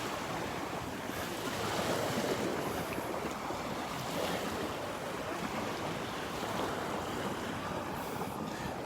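Waves wash onto a beach in North Naples, Florida: a soft, continuous surf rush with gentle swells, heard from a distance under steady wind buffeting the microphone, with no talking.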